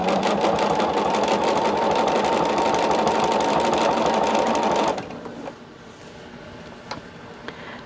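A sewing machine runs steadily for about five seconds, stitching binding onto a quilt with a fast mechanical rattle, then stops, leaving quiet handling noises.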